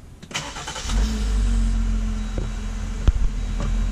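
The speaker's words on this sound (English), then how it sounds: "Let's turn it on." A 2018 Jeep Wrangler Unlimited Rubicon engine cranks and fires up, then settles into a steady, fairly loud idle close by, with a brief click partway through.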